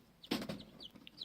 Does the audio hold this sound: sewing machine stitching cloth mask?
no